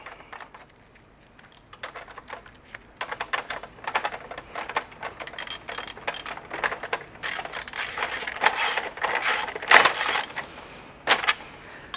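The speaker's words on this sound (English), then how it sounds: "Take your wrench and ratchet, and you're going to secure back to the ladder." A ratchet wrench tightens a nut to secure the base of a Werner LevelSafe Pro ladder. Bursts of crisp, close clicking come in irregular runs and grow busier and louder toward the end.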